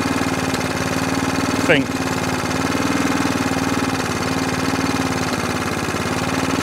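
A Qualcast 35S cylinder mower engine idles with a steady, even mid-pitched putter and slight vibration, close by, while someone briefly speaks over it.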